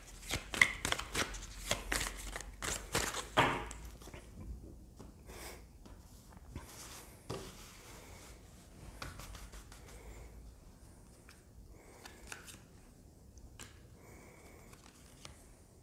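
Oracle cards being shuffled by hand, a series of close, crisp riffling and slapping bursts over the first few seconds, then softer sporadic card handling.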